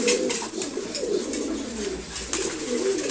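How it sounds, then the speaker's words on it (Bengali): A female red checker pigeon coos in soft, repeated low throaty pulses, close by and alone. "তারপর রেড চেকাট কবুতর এটা মাদি কবুতর"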